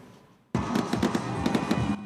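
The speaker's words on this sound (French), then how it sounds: "Le ciel de San Pedro illuminé par des feux d'artifice." New Year fireworks burst over San Pedro, a rapid string of sharp crackling pops and booms erupting after a quiet moment and continuing loudly and densely, with no voices.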